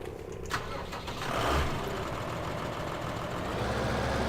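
Farming Simulator 2015 tractor engine starting and then idling steadily at moderate level, a low continuous mechanical hum after a brief crank.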